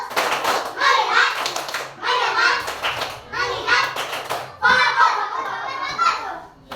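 Children in a classroom chant loudly together while clapping hands in rhythmic bursts, the young voices dominating and sharp claps mixed in across several phrases.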